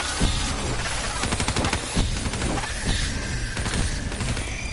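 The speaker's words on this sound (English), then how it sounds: "I'll shoot him now" Rapid video game gunfire from a PS4 zombie shooter, with dense bursts of shots repeating steadily over a busy, loud layer of game effects and ambient noise, and no voices.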